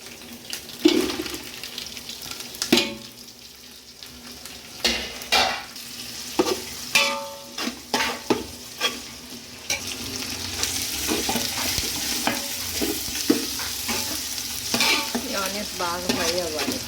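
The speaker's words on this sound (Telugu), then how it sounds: "ఆనియన్స్ బాగా ఫ్రై అవ్వాలి." Onions and green chillies fry in a pan for vegetable biryani, a steady sizzle with repeated sharp clinks and scrapes of stirring and a trickle of water near the end.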